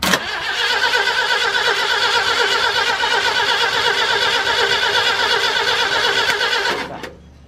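A 1965 Ford Galaxie's engine, fitted with new carburetors, is cranked and run with a loud, steady, continuous mechanical roar for about seven seconds before it cuts off abruptly near the end.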